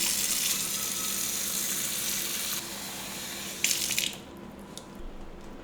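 Water runs steadily from a tap into a pot for boiling eggs, with a bright rushing hiss, then a brief splash and gurgle before the flow softens.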